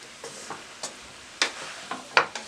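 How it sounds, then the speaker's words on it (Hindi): A spoon scrapes and stirs chicken fried rice around a hot pan in a series of scattered, uneven strokes, with a light sizzle underneath. "अब आपने एहतियात से इसमें चम्मच चलाना है ताकि चावल टूटे ना"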